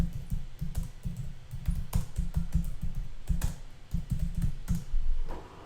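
Typing on a computer keyboard to fill in a name and details for a Flipgrid submission: steady, close key clicks in quick irregular runs with brief pauses and a few louder keystrokes.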